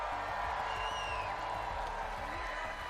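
A large crowd at the Legends Landing event in Fort Worth cheers and applauds in a dense, steady roar heard from a distance, continuous throughout, with faint whoops and a low rumble underneath.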